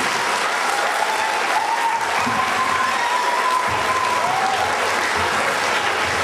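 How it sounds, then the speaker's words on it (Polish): A crowd claps steadily and warmly at a school ceremony, a dense, continuous applause filling the whole stretch, with faint voices mixed in. "gorące brawa jeszcze raz dla pani Moniki."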